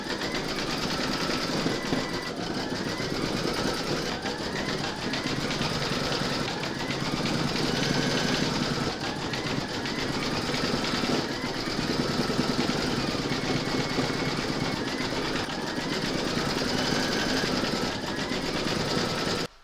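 Embroidery machine stitching musical note details on the white keys of a piano coaster design, a steady close whirring hum with rapid needle chatter running continuously throughout, no talk.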